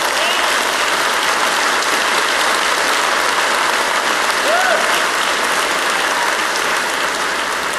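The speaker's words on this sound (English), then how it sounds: "Yeah, you should be applauding." A large audience at a medical conference plenary session breaks into loud, sustained applause, a dense, even roar of clapping that holds steady for several seconds without pause.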